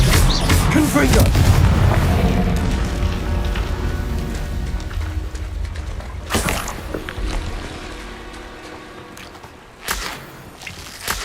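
Spell explosions in a Hogwarts wizarding video game: a heavy booming blast with a long rumbling decay, followed by sharper bursts, loud and close, with a voice speaking over the effects.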